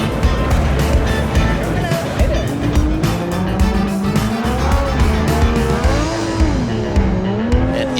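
A drift car does a burnout in the burnout box at Irwindale during a Formula Drift round, the engine roaring loud with rising, wavering revs and continuous tire squeal, while an announcer talks over it.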